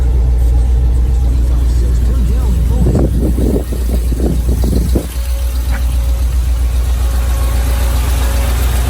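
A 1977 Ford F150 pickup truck engine runs at a steady idle, close and loud, with a low continuous rumble; someone talks over it through the middle of the stretch.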